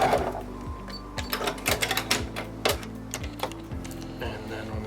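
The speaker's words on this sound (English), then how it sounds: "So I'm just going to sew on that line. I like to do a little back stitch first, just to lock it in." A sewing machine stitching a seam runs in steady rapid bursts with brief stops and restarts for a back stitch, close and mechanical.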